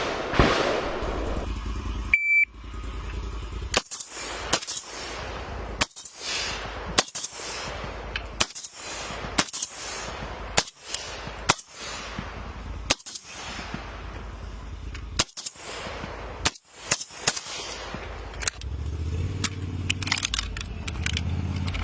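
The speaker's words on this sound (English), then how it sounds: "this is the one where you get to shoot out of a moving vehicle" AK rifle shots fired from a moving vehicle during a rifle competition ring out as a long series of sharp, loud cracks at irregular intervals, some in quick pairs, over a continuous engine and road rumble, with no talking.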